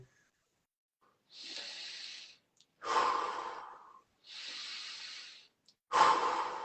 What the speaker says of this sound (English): can you demonstrate the breathing, please? So watch how he's breathing from the bed.